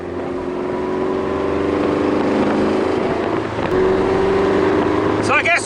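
The 300bhp MG Abingdon Edition's engine pulls hard and close, a loud, continuous growl with rising revs and wind buffeting, ending in a brief sharp rev flare.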